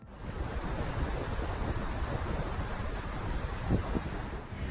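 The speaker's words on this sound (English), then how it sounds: "The huge volume of water that gushed did not allow the entire Niagara Falls to freeze." Niagara Falls, partly frozen in a winter storm, pours a huge volume of water with a steady, dense, broadband roar that is constant and moderately loud, with no voices.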